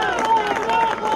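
Crowd applause and cheering at a Polish harvest festival (dożynki) in Czarny Bór, a dense steady wash of clapping with a sustained tone and a voice carried over it.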